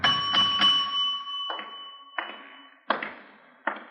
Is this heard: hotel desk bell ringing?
yes